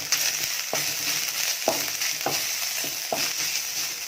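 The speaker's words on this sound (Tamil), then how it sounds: "மசாலா வறுக்கிறதுக்கு ஒரு 2 ஸ்பூன் நல்லெண்ணெய் ஊற்றிக்கலாம்." Fennel seeds, cumin and coconut masala roasting in hot sesame oil, a steady close sizzle with a few sharp stir scrapes and crackles spaced through it, no voices.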